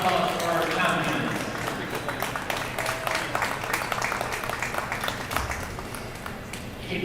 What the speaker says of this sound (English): another round of applause for our champions.